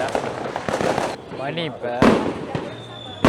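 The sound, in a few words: fireworks and firecrackers exploding during Raya celebration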